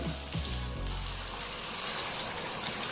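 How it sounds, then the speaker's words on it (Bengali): Boiling hot water pours into a pan of okra curry, a steady rushing gush that starts with a couple of low bumps and then runs on as a continuous splashing fill, close and moderately quiet. "এবারে এতে অ্যাড করছি দেড় কাপ ফুটন্ত গরম জল"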